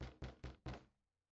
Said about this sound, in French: Essayer de toquer.